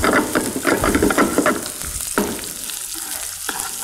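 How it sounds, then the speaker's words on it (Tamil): Sliced capsicum and onion are lightly sautéed in a pan, giving a close, lively sizzle with rhythmic stirring scrapes that thin out and quiet down toward the end. "இது லைட்டாக வதக்குறோம்"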